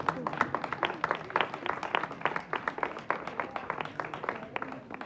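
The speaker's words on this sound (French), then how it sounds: "on peut l'applaudir à nouveau" Audience applause at an outdoor Sunday street event on Rue Saint-Malo in Brest, a steady mix of many hands clapping with dense, irregular claps continuing throughout at moderate distance.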